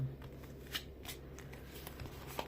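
Quiet, soft shuffling of playing cards with a few brisk riffles and light taps against a low background hum.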